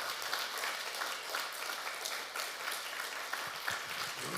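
A church congregation claps loudly together during a Sunday morning worship service, with a steady, dense wash of applause that lasts the whole stretch and has a few sharper claps standing out near the end.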